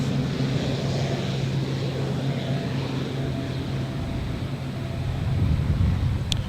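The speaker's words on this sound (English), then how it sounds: "Flying Doctor just taking off now." A Royal Flying Doctor Service Pilatus PC-12 turboprop takes off at Adelaide Airport, its steady, fairly loud broadband engine roar holding throughout with a low droning hum, heard from a distance outdoors without talk.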